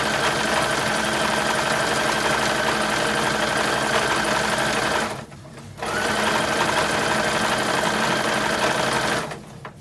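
Sewing machine stitching a seam on a vintage handkerchief apron, a loud, fast, steady mechanical whir close by that stops briefly midway, then runs again before halting near the end.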